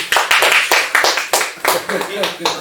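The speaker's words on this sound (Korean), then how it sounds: "박수" A congregation claps during a Cheondogyo sermon at the Dongducheon parish worship service, a burst of sharp, uneven hand claps close by, with speech continuing under it.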